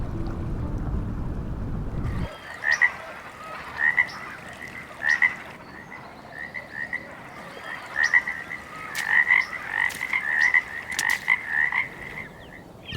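Common frogs croak in a pond left by melting ice and snow, giving repeated short croaks in irregular bursts over light wind noise, fairly close.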